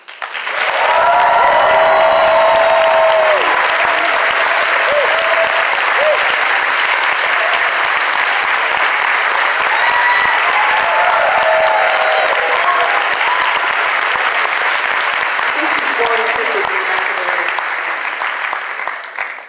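Sustained audience applause fills a conference hall at a leadership summit, loud and steady for about twenty seconds, with faint cheers or voices mixed in before it gradually tapers at the end.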